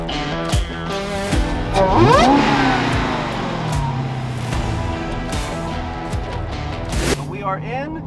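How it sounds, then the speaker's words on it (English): A 2020 Dodge Challenger SRT Hellcat Redeye widebody in F8 green revs hard close by, its engine climbing loudly in pitch and then settling into a steady rumbling idle. "this is our 2020 HellCat REDEYE F8 green"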